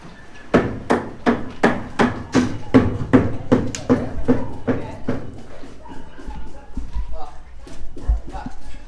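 Sharp hammer blows on wooden concrete formwork, about a dozen fast regular strikes, then scattered knocks and clatter with people talking nearby.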